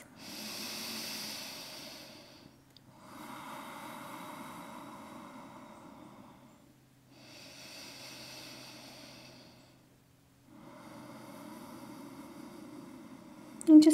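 Slow, deep breaths during a gentle yoga flow, four long airy inhales and exhales separated by short pauses, close and fairly soft, with no talking.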